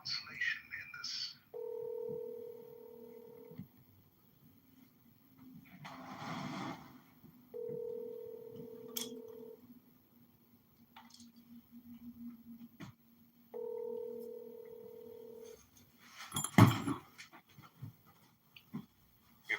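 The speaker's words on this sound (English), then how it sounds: "Your call has been forwarded to voicemail." Telephone ringback tones on a call that goes unanswered and is forwarded to voicemail: three evenly spaced two-tone rings, each about two seconds long, over a faint low hum, with brief noises between them.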